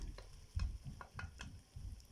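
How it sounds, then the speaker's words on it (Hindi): Marinated chicken is stirred into cooked-down tomato masala for Hyderabadi chicken tahari: soft, irregular scraping and thudding stirs over a quiet background sizzle, close but low in level. "अब हम इसमें डालेंगे मैरिनेट किया हुआ चिकन।"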